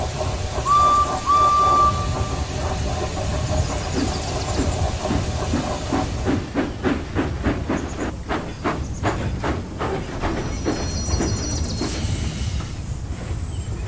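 A steam railway engine hisses loudly, then chuffs in an accelerating rhythm as it starts pulling coaches, with a brief whistle near the start and steady rolling noise throughout.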